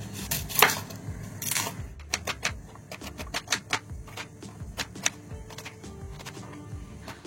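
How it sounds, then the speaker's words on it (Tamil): A knife chops vegetables for pulao on a cutting board in quick, crisp taps, close and steady, with a few louder knocks at the start and no talking. "அதுக்காக வெஜிடபிள்ஸ் எல்லாம் கட் பண்ணிட்டு இருக்கேன்"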